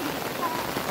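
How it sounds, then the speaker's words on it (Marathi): Rain falls steadily on freshly transplanted rice paddy fields in the Konkan countryside, a soft continuous patter with no pauses through the short moment. "आणि अचानक पावसाने सुरुवात केली"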